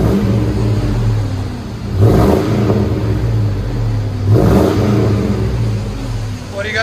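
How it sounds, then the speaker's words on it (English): A 2001 Chevy Tahoe 5.3L V8 with a Flowmaster Flow FX exhaust idles with a deep rumble, then revs up twice in short, loud bursts that fall back to idle, with a voice briefly speaking. "There's the Flow FX."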